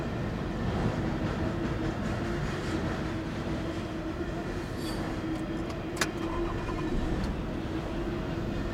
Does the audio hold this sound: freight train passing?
yes